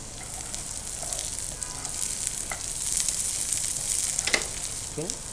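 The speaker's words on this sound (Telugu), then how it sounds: "దీనిలో ఇప్పుడు గ్రీన్ చిల్లీస్ చాప్ చేసుకుని పెట్టుకున్న గ్రీన్ చిల్లీస్." Chopped green chillies fry in a pan, giving a steady, moderately loud sizzle with small crackles and stirring clicks throughout, and no one talking.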